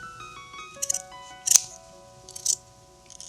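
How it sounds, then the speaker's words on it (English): Scissors snip crochet yarn several times in short, sharp bursts, close by, over a quiet background with faint steady tones. "scissors."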